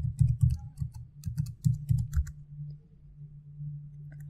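Keys on a computer keyboard are tapped in quick bursts as a command and password are entered, close and crisp, then stop, leaving a low steady hum.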